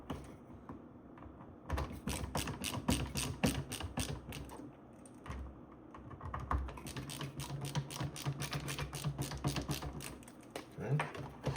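Electrical device cover plate being tightened down with a hand screwdriver or ratchet, producing a long run of fast, close clicking and ratcheting ticks with brief pauses, fairly quiet, with faint talk in places.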